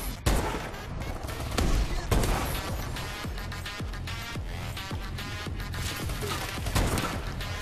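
Rapid gunfire in a video game sniping free-for-all match, dense overlapping shots and bursts crackling continuously at moderate loudness with sharp individual cracks throughout.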